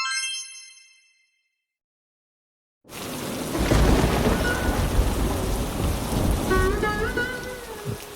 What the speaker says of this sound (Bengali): যেভাবে বৃষ্টি পড়ছে বানের জল তো ঘরে ঢুকে যাচ্ছে গো